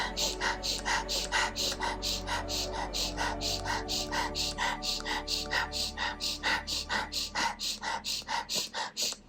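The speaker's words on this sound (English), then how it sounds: "as you're breathing in through the nose, see if you can expand your belly" Rapid rhythmic breathwork: quick, steady sniffing inhalations through the nose alternating with short exhales, repeating about twice per second over a low droning background, close and fairly quiet.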